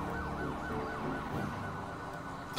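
Police siren in the GTA roleplay game wails in a steady rising and falling cycle at moderate distance, a muffled rumble beneath it, ending in a sudden louder burst.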